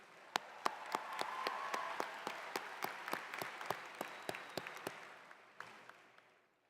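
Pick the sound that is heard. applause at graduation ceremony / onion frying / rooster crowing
applause at graduation ceremony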